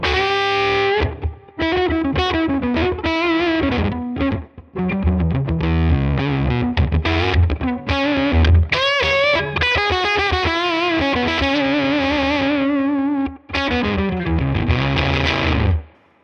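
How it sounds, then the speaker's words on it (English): Electric guitar through a Mythos Pedals Hephaestus variable voltage fuzz pedal, giving a spitty, gated, nasty fuzz tone; a loud, busy run of distorted notes and chords, with brief gaps where the gate cuts off. "really cool, spitty, gated, nasty fuzz tone"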